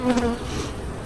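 Honey bees buzz on hive frames in a dense, steady drone, close and loud, with a brief higher whine at the start and no voices.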